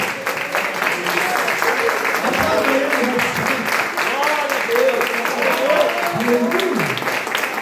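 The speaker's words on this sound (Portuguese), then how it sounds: "Dê uma salva de palmas." A congregation applauds during an evening church service, a steady wash of clapping that carries on under a voice speaking over it.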